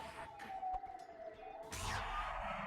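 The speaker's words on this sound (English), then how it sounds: "Oh, looks like there's sirens going by." Sirens pass by outdoors, a faint wailing tone heard from a distance, with a louder swell of noise near the end.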